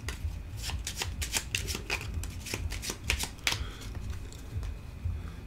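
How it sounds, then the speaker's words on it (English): Heat: Pedal to the Metal board game cards from a discard pile shuffled by hand in a solo game, a run of crisp riffling bursts close up, quiet and with no talk. "I need 3 more cards, so I'll shuffle my discard pile again."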